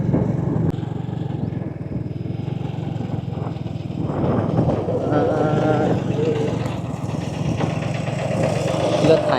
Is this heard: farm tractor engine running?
yes